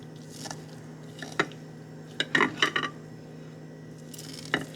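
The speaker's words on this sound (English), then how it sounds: "I'm just chopping it up, cutting it up a little bit" Quiet, sporadic knife cuts through soft raw chicken breast, with wet squishes and a few light clinks against a board or dish.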